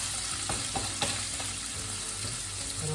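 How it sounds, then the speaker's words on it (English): Garlic pressed into bacon frying in a pan gives a steady close sizzle, with a few sharp pops and crackles over the continuous hiss. "2 cloves of garlic that I'm going to press into this bacon"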